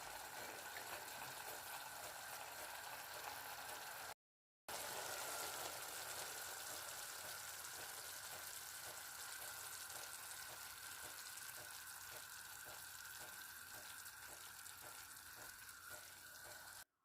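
Adobong takway with pork and vinegar simmers in a pot, a loud continuous bubbling sizzle with a faint rapid pulsing that runs almost unbroken, apart from one brief cut.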